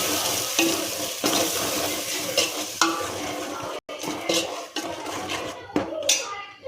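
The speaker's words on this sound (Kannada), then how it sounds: "ಉಳ್ಳಾಗಡ್ಡಿ ಹಾಕತ್ತೀನಿ. ಮಸಾಲೆ ಇದೆಲ್ಲ ಫ್ರೈ ಮಾಡಿದ್ರೆ ಜಾಸ್ತಿ ಫ್ರೈ ಮಾಡಂಗಿಲ್ಲ" Onions and masala frying in a pan make a close sizzle with repeated scraping strokes from stirring, a brief cut-off midway, and faint background voices.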